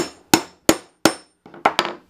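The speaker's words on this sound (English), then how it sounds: "I'm gonna just punch my hole." A hammer drives a hole punch through scrap leather in five sharp, close strikes, the last two quick together, each a crisp crack that fades fast.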